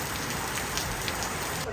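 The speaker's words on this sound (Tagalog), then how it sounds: "Nakatingin si Bobby doon na sa patak ng ulan." Rain patters steadily on a surface, a dense, soft spray of raindrops with a few slightly louder drips, fairly quiet and continuous over the short stretch.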